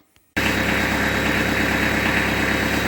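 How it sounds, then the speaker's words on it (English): A Kubota B3000 compact tractor engine fitted with a snowblower catches abruptly after a brief start and settles into a loud, steady idle that runs uninterrupted to the end. "I'm going to start it up now and see if it'll lift it up."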